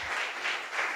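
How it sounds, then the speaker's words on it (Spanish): A congregation in church gives a brief round of applause, a soft, distant wash of clapping heard alone. "Le damos un aplauso al Señor."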